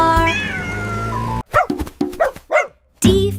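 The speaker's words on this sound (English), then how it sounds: "D for dog and D for drum" An animated dog in a children's alphabet song barks a quick series of short, loud barks after a sustained musical tone, then pauses before a final burst.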